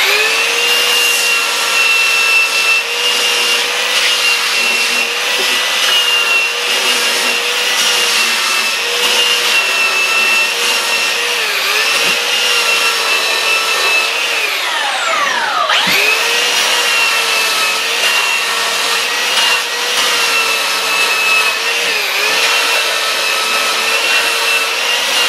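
A belt sander fitted with a coarse 40 or 50 grit belt grinds steadily across laminated boards, a loud continuous whine with a brief pitch dip midway as the tool shifts on the wood.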